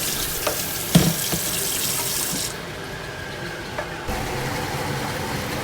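Barramundi fish is rinsed under a running kitchen tap, a steady close splash of water with a few sharp clatters against the sink, then a softer flow partway through.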